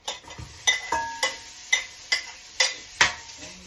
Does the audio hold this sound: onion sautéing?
yes